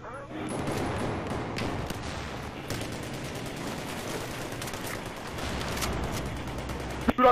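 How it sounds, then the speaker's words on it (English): Gunfire rattles through a Battlefield 4 Rush match, with dense bursts of automatic shots and scattered pops continuing nonstop at moderate loudness, and a sharper close burst at the very end. "I'm getting shot at"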